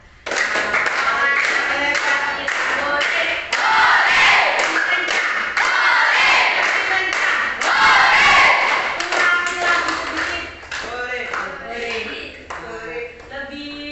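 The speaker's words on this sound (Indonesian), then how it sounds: "Ayo tepuk tangan sama-sama." A class group clapping hands together in a classroom activity, a steady busy run of many claps mixed with shouting voices and chatter throughout.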